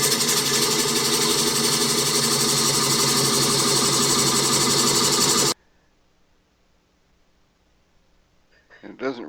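A wood lathe spinning at about 300 RPM while coring a bowl with a McNaughton or Oneway Easy Core system gives a loud, steady mechanical drone that cuts off abruptly midway, followed by near silence and a faint knock.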